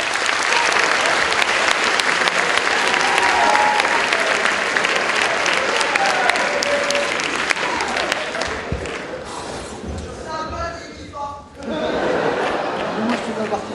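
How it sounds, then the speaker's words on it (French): Loud, sustained applause from an audience at a 2009 art show welcoming performer Christophe Ballet, dense clapping mixed with a few cheers and crowd chatter, thinning briefly near the end before swelling again. "Applaudissez Monsieur Christophe Ballet."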